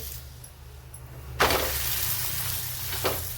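A paneer taco flipped onto a buttered hot pan bursts into loud, steady sizzling after a quiet start, with a short clatter of the turn and a brief spike near the end.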